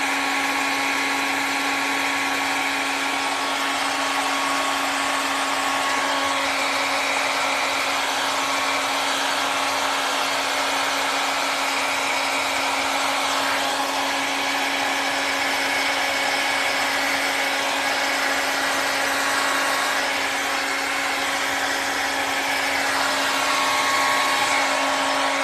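A hair dryer drying paint on a sketchbook page, a continuous close whirring blow with a steady hum, loud and unbroken, with no talking.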